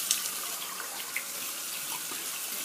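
Tap water runs steadily while shaving soap lather is rinsed off a face at a sink, a faint, even hiss with a couple of small splashes and no talking.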